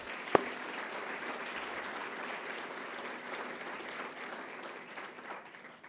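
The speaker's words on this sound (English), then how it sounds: "Let's give them another round of applause." Audience applause at an awards ceremony, a sustained wash of clapping from a sizable crowd that begins with a sharp knock and fades slightly toward the end.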